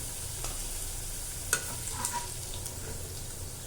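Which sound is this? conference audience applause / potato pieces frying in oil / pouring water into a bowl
potato pieces frying in oil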